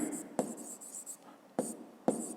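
A pen writes a school physics solution by hand on paper, giving soft scratchy strokes punctuated by a few sharper taps, close and quiet. No talking.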